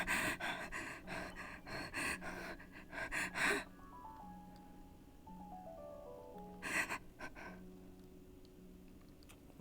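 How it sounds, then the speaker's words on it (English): A person gasps and pants in a few sharp, breathy bursts in the first few seconds and again briefly later, close and fairly loud over a quiet background with faint tonal sounds. "did you guys hear me gasp?"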